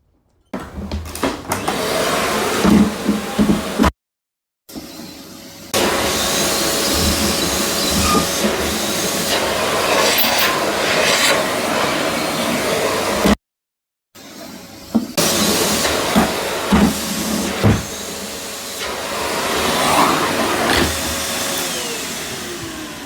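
A Hoover vacuum cleaner runs steadily and loudly nearby, a continuous broadband whine that drops out twice in brief gaps, during household dusting and cleaning of a TV, Xbox and shelves.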